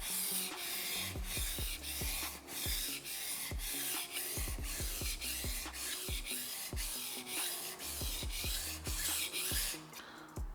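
A knife blade is pushed and drawn back across a whetstone at a steady angle, making close, rhythmic scraping strokes that repeat evenly with no break, with no voices.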